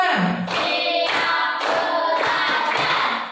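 A group of students performs a rhythmic clapping routine in a classroom, several loud close bursts of many hands striking together in a steady pattern, nearly continuous across the short stretch.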